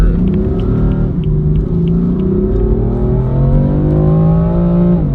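A 2015 BMW M4 accelerates hard in Sport Plus mode. Its loud engine roars steadily up close, rising and falling in pitch through the revs, with no voices.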